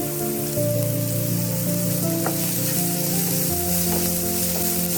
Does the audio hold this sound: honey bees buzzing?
no